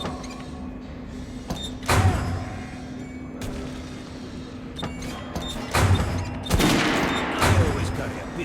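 Kalash assault rifle in Metro Last Light firing several loud bursts at irregular intervals over a steady low hum, each sharp crack trailing off, with quieter clicks and mechanical sounds between shots.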